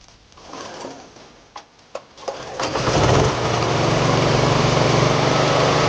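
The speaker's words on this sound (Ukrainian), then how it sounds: "Генератор працює справно, готовий до експлуатації." Portable generator after maintenance with a cleaned air filter and fresh oil: a few pulls and sputters, then the engine catches and settles into a loud, steady running drone.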